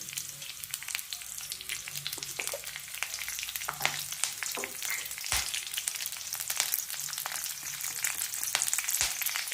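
Cumin, curry leaves, asafoetida and mustard seeds crackling in hot oil, a dense steady sizzle with frequent sharp pops and spatters, close and fairly loud, with occasional stirring knocks.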